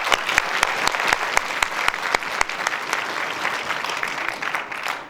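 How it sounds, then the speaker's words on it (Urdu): An audience at a student organisation's foundation-day gathering applauds vigorously, with loud distinct claps early on giving way to a steady, dense roar of clapping that slowly tapers. "اس لیے ایک دفعہ اپنے لیے تالیاں بجا دیجیے۔"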